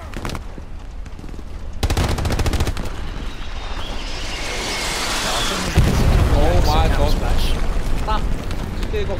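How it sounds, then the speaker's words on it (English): Artillery fire in the World War II shooter Hell Let Loose: heavy booming blasts and rumbling explosions with bursts of gunfire, loud and sustained, building toward a big impact near the end, with players talking over it. "Yeah, it's that fucking artillery, unfortunately."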